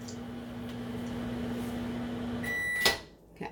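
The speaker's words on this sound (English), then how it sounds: "make sure you know how hot and how fast your microwave is" A microwave oven hums steadily, then its beep sounds once, followed by a soft click.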